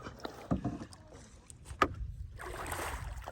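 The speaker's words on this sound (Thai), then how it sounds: "แนะนำผู้ชายพายเรือ" A man paddles a rowing boat on a river during a day of water play, giving a few close splashy paddle strokes with water noise and brief voices around them.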